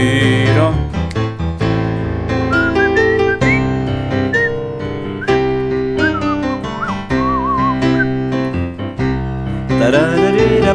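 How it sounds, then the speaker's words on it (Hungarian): A person whistling a bright, sliding melodic tune over loud instrumental music, the whistled phrases rising and falling in short runs throughout. "Na majd most fütyülök."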